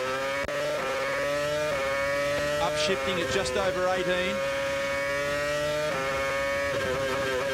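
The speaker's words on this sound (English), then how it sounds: "They're not using a lot of revs in the Renault at the moment." A Formula One car engine screams at high revs at Albert Park in 2006, the pitch climbing and dropping through gear changes, while a commentator talks over it.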